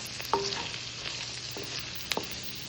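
Fried potatoes frying with keema in a pan, a steady sizzle with a couple of brief spoon scrapes and clinks, no voices.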